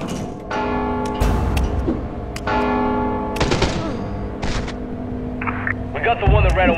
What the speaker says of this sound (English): Don't you hear the bell?